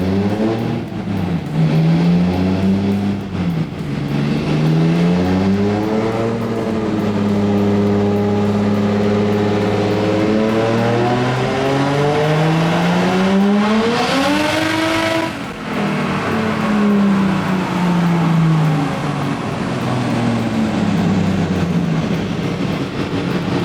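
Drift car engine revving hard through a power run on a dyno, loud and continuous, the pitch climbing and falling in repeated sweeps with no talk over it.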